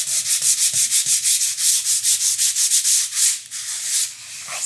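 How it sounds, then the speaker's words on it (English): A painted faux metal wood sign is sanded by hand in quick, steady back-and-forth strokes, a close, loud, rhythmic scratchy rubbing that slows near the end. "Sanding is my cardio,"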